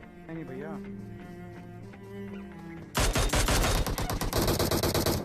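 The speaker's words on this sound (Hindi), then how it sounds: "अभी मेरे को गन फाइट के साउंड आया" Rapid automatic gunfire bursts in a video game, loud and dense, arriving abruptly after a few seconds of quieter game sounds with a voice-like warble, then continuing in fast repeated volleys.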